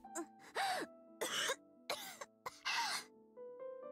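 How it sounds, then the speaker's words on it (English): A girl coughing in the Sharin no Kuni visual novel game: five harsh, close coughs and throat-clearing bursts in an uneven rhythm, over a faint soft music tone. "Why is she coughing?"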